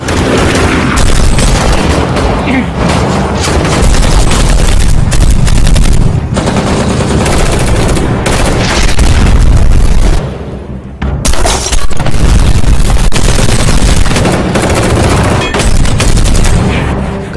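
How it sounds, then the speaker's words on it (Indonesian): Dense, loud film shootout between a gunman and police: continuous rapid automatic gunfire, booming explosions and shattering debris with no pause, a brief dip near the middle before the barrage resumes. "Sehingga Kim bisa lebih leluasa melarikan diri dari baku tembak yang terjadi antara Ray dan polisi."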